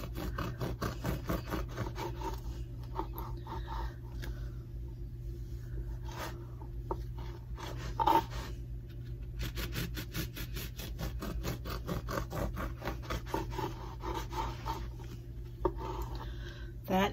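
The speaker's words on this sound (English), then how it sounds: "Here's the bread, and I'm using a serrated knife. And I'm going to cut mine probably about a 1/2 inch thick." A serrated knife saws through a loaf of bread for French toast, cutting slices about half an inch thick, in repeated soft rasping strokes with brief pauses over a constant low background hum.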